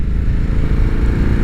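A Harley-Davidson Sportster S motorcycle engine running steadily while riding, a loud, close, even low throb without speech.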